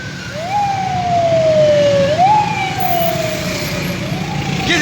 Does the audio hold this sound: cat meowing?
no